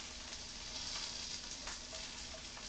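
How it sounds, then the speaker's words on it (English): Chinese long beans fry in a pan with a steady, quiet sizzle that holds evenly throughout, with no voices. "she loves the sizzle. I do too. That's how you know they're good"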